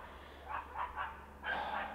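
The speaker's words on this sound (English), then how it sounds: "Man, these dogs drive me nuts." Dogs bark near a rural plot being cleared for a house, a few quick faint yips in a row followed by one longer bark, distant over quiet background.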